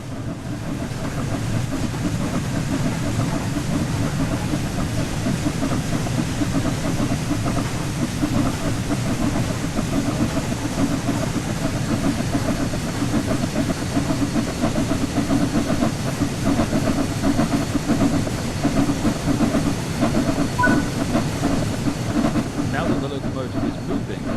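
A steam locomotive in Train Sim World 4 gathering speed, giving a continuous loud chuffing and rolling rumble with steady rail noise throughout as a voice talks over it.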